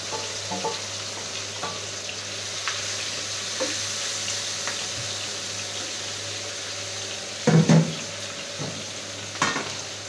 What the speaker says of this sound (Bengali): এই পেঁয়াজটা ভালো করে ভাজি করে নিব